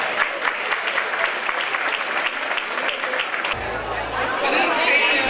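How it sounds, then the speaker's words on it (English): An audience at a 2019 women's event applauds steadily and fairly loudly, with a dense wash of clapping and crowd chatter running under it throughout. "Please give them a round of applause."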